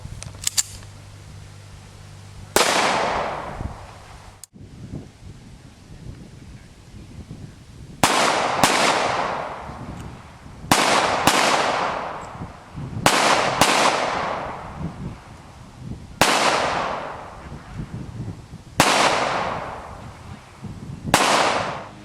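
Guns are fired outdoors one at a time, about ten loud sharp reports spaced a few seconds apart, each decaying into a brief echo.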